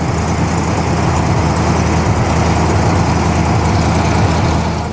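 A vintage eight-cylinder car at the Concorso d'Eleganza Villa d'Este idles close by with a loud, even, low rumble that holds steady throughout.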